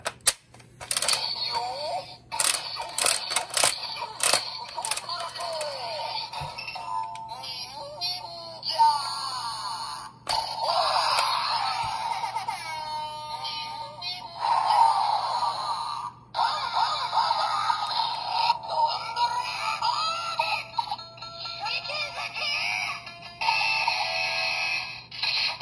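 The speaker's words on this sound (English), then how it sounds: "So we got some electric guitar strumming sound effects from that" Electronic electric-guitar strumming effects from a toy sword-gun weapon, bright buzzy chirps and bursts that play in quick succession, close and fairly loud, alongside other electronic toy sounds.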